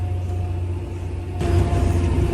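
John Deere tractor engine running at roughly 1800 rpm, a steady low droning rumble close by that swells slightly louder midway through, with no other sounds.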